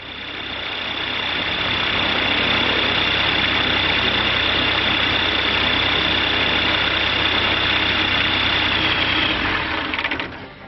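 A Rotax 912 aircraft engine running steadily during carburetor synchronization, a loud continuous drone with a strong mechanical hum, holding an even pitch until it cuts off abruptly near the end.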